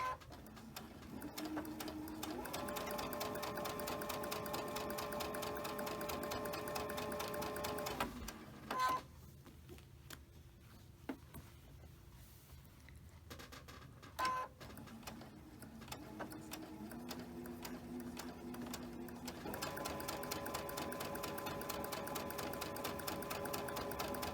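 A sewing machine stitches quilt heart block pieces in long, even whirring runs at a steady rhythm. Quieter pauses with a few clicks separate the runs, and the machine sounds close, with no talking.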